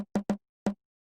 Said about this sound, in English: which is a small tom